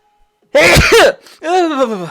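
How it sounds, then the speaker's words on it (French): A single loud, close sneeze bursts out after a moment of quiet, followed by a short vocal groan or exclamation. "Attention, je vais éternuer"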